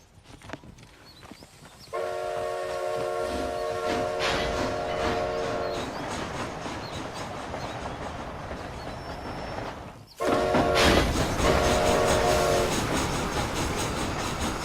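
A train rolls along in the Red Dead Redemption Undead Nightmare game, a steady rumble of wheels and cars with bursts of a whistle or horn sounding partway through and again near the end.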